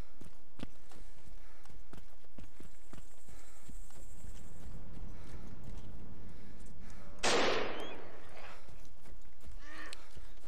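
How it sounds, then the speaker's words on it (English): Gunshots in the DayZ Breaking Point mod game, one sharp loud crack standing out near the end amid scattered footstep-like clicks and thumps, with faint talk in the background. "That's like three shots."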